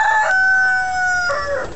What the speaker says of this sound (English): mind the chickens, they're a bit noisy